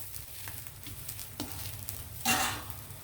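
An egg fries in oil in a pan on medium heat: a faint, soft sizzle with a few light taps, then a brief louder burst of spattering near the end.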